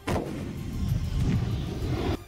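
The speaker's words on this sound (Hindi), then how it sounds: "वहां एक के बाद एक दनादन धमाके होते रहे।" Russian artillery firing in a relentless barrage during the Russia–Ukraine conflict, a loud sustained rumble of overlapping blasts and low booms filling the whole stretch before cutting off abruptly.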